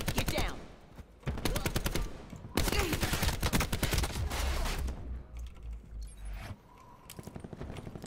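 In the Black Ops 4 video game, a SIG 5.56 rifle fires in rapid automatic bursts, loud and close, separated by short pauses, with faint clicking between the volleys.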